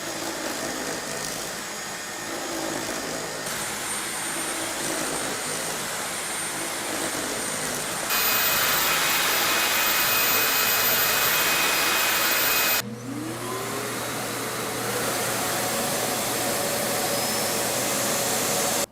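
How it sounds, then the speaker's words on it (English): A cordless stick vacuum whines steadily on hardwood, then on carpet with a louder, brighter tone, then switches to a deeper, roaring self-emptying cycle at its base station; the machine is heard close and alone, with no talk. "Here is what the vacuum sounds like on hardwood,"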